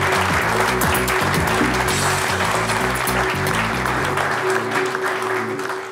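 A studio audience claps to welcome three guests onto a business debate set, dense sustained applause over upbeat music with a steady beat, fading slightly toward the end.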